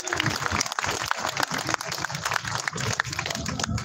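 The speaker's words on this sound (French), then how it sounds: "je vous prie de faire un tonnerre d'applaudissements à monsieur Jacques Cheminade." Crowd applause at a rally for peace in France, greeting a speaker as he is introduced, with dense irregular clapping that is fairly loud and continuous, recorded outdoors with some rustling handling noise.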